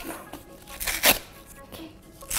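Cardboard and plastic packaging of an Apple iMac 2019 box being opened, with crinkling and tearing bursts, one sharp rip in the middle and another near the end, close up.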